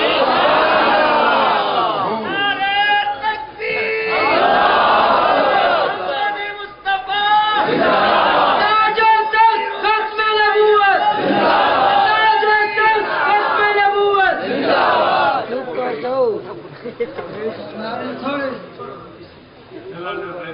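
A large crowd chants religious slogans in loud, rhythmic unison bursts, answering a preacher's calls at a religious gathering, with a speaking voice between and under the chants.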